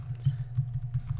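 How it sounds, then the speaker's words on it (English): Brief typing on a computer keyboard while entering an admin username during a Cisco virtual wireless controller install, a few soft key taps over a steady low hum. "I'm going to type admin for the administrative username"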